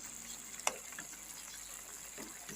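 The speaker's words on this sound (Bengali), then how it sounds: "মাছের ঝালটা একদমই ফুটে গেছে" Fish curry bubbling and sizzling softly in a pan, with a faint steady frying hiss, one sharp tick and small pops.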